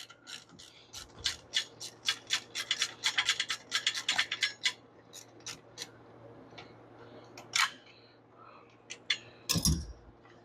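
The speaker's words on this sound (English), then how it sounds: "So now we'll take that clamp bolt off." Clamp bolt being worked loose from the dashboard of a 1968 Chevy Impala fastback, giving a run of quick, close ticking and scraping ratchet-like clicks in uneven bursts, with a sharper clunk near the end.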